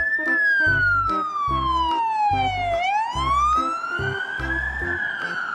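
Green toy police car siren wailing loudly and close, a single slow falling then rising tone over a repeating beeping electronic pattern, with no talk.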